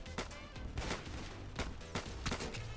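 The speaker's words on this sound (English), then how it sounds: "Oh, I have to cross map this guy with the pistol." Rapid pistol shots from a Roblox first-person shooter, Scorched Earth, crack out in several quick bursts of four or five, sharp and close, over a steady game background.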